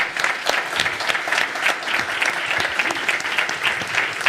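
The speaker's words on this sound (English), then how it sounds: "I think people want to applaud you." Conference audience applauds a speaker with steady, dense clapping that holds at a strong, even level throughout.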